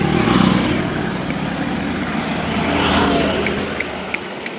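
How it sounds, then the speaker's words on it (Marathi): Several vehicles pulling away together from a seaside stop during a Ganpati procession in Kunkeshwar, Konkan, heard as a steady broadband engine rumble and road noise that swells and fades, with a few faint clicks near the end. "चला गाड्या सगळ्या निघाल्या"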